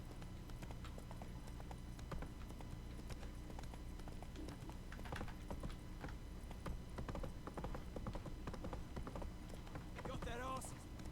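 Roach the horse gallops in a video game, with steady hoofbeats running throughout under game music and ambience, plus a brief whinny near the end.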